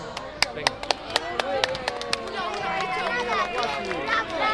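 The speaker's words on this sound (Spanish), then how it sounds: "Un fuerte aplauso" An audience claps after a children's Christmas show in Torrejón, loud overlapping applause with a few sharp individual claps standing out early, mixed with crowd chatter and voices.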